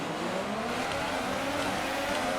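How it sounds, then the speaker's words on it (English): Formula 1 car engines held at high revs on the grid at the Brazilian Grand Prix in F1 2018, a loud steady dense engine roar throughout. "Let's get the revs up here, get in the sweet spot."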